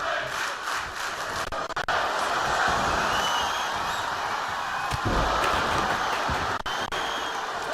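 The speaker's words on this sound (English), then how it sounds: "You can listen to the crowd right now." Crowd in the WWE 2K25 wrestling video game roaring and chanting loudly and steadily, with occasional slams and thuds cutting through the dense, continuous cheering.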